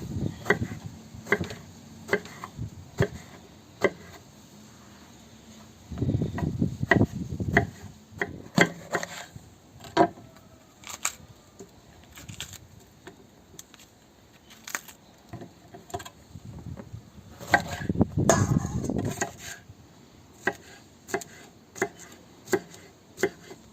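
Knife chopping peeled eggplant on a board, a series of crisp, close taps at an irregular pace, with two denser bursts of quick chopping partway through.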